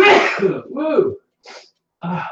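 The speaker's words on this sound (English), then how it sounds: "Allergies, gesundheit." A close, loud sneeze from allergies in a home kitchen, followed by a short voiced exclamation and a second brief sneeze-like burst.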